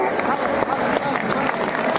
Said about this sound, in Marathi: टाळी अशी वाजली पाहिजे